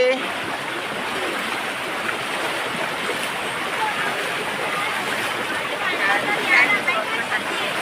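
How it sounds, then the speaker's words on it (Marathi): Water rushes steadily and loudly, a constant broadband roar of a fast-flowing river at a river crossing near Palasdari waterfall, Karjat, close by with no pauses. "बघा कसा पाण्याचा झोत आहे"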